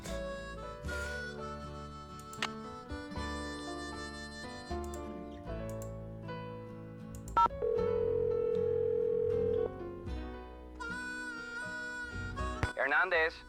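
A steady telephone dial tone holds for about two seconds in the Nancy Drew: Secret of Shadow Ranch video game, set among game music and short clicking and ticking sounds.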